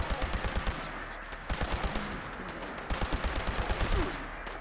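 Energy rifle fire in the Fallout 76 video game, a rapid series of sharp repeated shots in steady bursts, loud and close, with short pauses between volleys and no talking.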